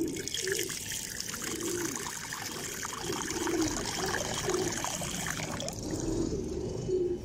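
Water poured from a container into a pigeon cage at home, a steady splashing trickle filling the whole stretch close by, with faint voices in the background.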